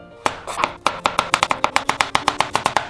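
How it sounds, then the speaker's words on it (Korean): Quick, regular knife strokes chop through a zucchini on a cutting board, a rapid series of crisp taps close by. "그 다음에 애호박도 썰어주도록 할게요"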